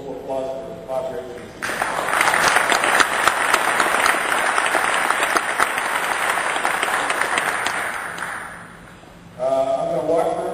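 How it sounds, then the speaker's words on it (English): Audience applause at the Green California Summit and Exposition 2009 for presenter Bob Graves, a dense, steady wash of clapping lasting about eight seconds, with a voice speaking briefly before it begins and again after it fades. "So a little applause for Bob Graves"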